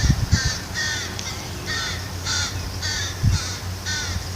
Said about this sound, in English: You hear those baby crows?